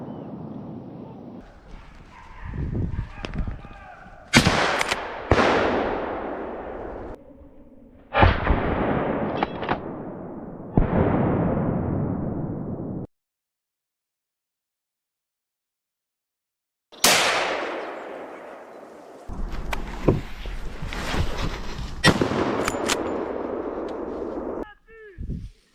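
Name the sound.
gunshots fired at wild boar during a hunt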